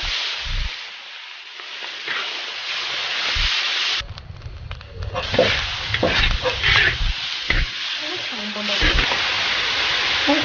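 Duck offal frying in a wok with Sichuan peppercorns, star anise, ginger, dried chillies and scallion whites: loud, steady oil sizzle broken by a brief hush, then spatula scrapes and metal clanks as the pieces are stirred.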